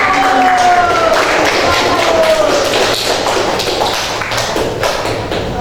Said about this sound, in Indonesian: Beri tepuk tangan untuk Samkan